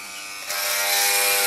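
An electric hair clipper buzzes loudly and close while cutting a child's hair, its steady whine growing louder and harsher midway as it bites into the hair.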